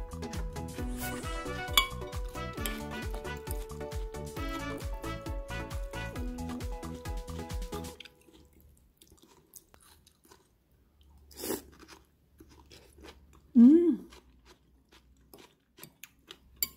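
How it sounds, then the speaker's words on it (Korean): A fork clinks against a dish while someone eats a spaghetti made with Korean melon, olive oil and roasted soybean powder, with soft crunchy chewing and a few scrapes after a stretch of background music. "스파게티니까 제가 포크로 다시 가져서 먹어보겠습니다."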